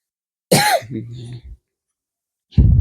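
Two sharp, close coughs with a throat-clearing rasp between them, separated by a brief silence; no speech.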